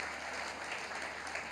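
Dense, steady applause from an audience at a panel discussion with women athletes, a sustained wash of clapping with no voices over it.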